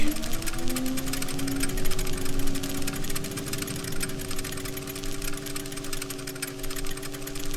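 A cage mechanism's crank turns in the video game Riven, giving a steady mechanical whirring and rattling drone with sustained tonal hums that waver slightly, moderately loud and continuous throughout.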